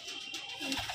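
Malwai pigeons coo softly and briefly among other bird sounds, a short close call with no talking.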